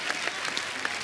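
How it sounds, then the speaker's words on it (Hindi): Studio audience applause on a comedy talk show set, a dense wash of clapping filling the short moment with a few sharper claps standing out, steady and fairly loud with no voices on top. "यार एक बात के लिए तो तालियां बनती हैं"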